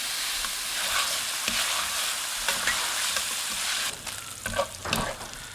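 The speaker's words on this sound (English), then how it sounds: "So now we're going to add our bacon to our skillet. We're going to cook that down until the fat starts rendering off" Bacon sizzles steadily in a skillet as its fat renders, a dense, continuous frying hiss with a few louder pops and crackles near the end, close and alone with no talking.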